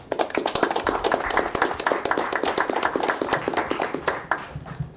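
Applause from attendees at a city board of aldermen meeting in Southaven, Mississippi, honoring Detective Yancey: dense, steady clapping from a small room for about five seconds that tapers at the end.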